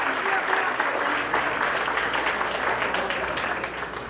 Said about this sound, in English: Another applause for Dr. Saiz, please.